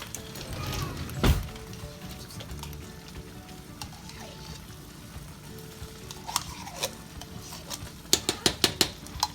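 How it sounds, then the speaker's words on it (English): Crushed tomatoes and tomato paste are stirred in a pan for chicken parmigiana: a soft, low sizzle with scraping strokes, then a quick run of sharp metallic clinks near the end. "Give that a good mix around."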